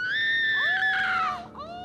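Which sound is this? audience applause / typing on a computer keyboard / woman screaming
woman screaming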